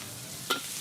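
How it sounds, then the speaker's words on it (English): Wok stir-frying Thai drunken noodles at a street food stall, a steady frying sizzle with one brief metallic clank near the end. "I can already hear the clanking of the wok, the stir frying."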